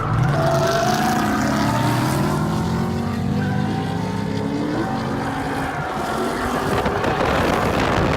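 Drift cars running in tandem on a track: loud, sustained engine roar from several cars stacked close together, with revs rising and falling under wind buffeting.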